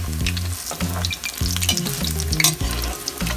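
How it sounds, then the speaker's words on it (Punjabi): Eggplant pakoras frying in medium-hot oil in a home kitchen, a steady close sizzle with bubbling crackle running throughout, alone with no voices. "ਤੇ ਮੀਡੀਅਮ ਤੇਲ ਤੇ ਇਹਨੂੰ ਪਕਾਵਾਂਗੇ"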